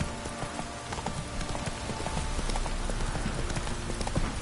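Hooves of a horse galloping in The Witcher video game sound as a quick, rhythmic clip-clop, close and steady over a soft rumbling ground noise, with no talk.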